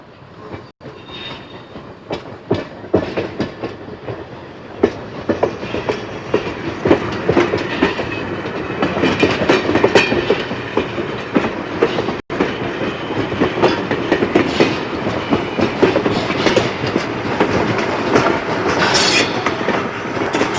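A loud, close train rumbles steadily along the track, wheels clattering with occasional sharp clicks and no voices.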